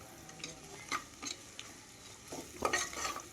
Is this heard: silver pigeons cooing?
no